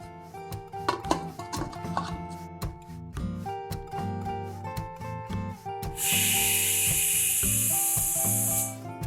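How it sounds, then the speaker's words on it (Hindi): A pressure cooker cooking daliya khichdi releases steam in a loud, steady hiss that starts partway through and holds for about three seconds before cutting off, following kitchen clatter and background music. "प्रेशर रिलीज हो चुका है कुकर का"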